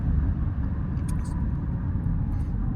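Chrysler wheelchair van braking hard while coming down a ramp, a steady low road rumble and engine drone with no grinding or squeal, heard alone throughout.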